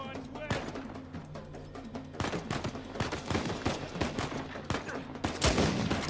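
Enemy gunfire in the video game Uncharted 4, with bursts of repeated shots and rapid fire under a player's commentary.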